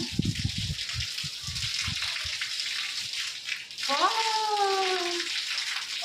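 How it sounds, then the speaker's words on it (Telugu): Water splashes and gurgles steadily as a phone is dunked, followed by a rising, warbling tone over continuous running water. "వాటర్లో తడిపి చూసేద్దాం చూడండి"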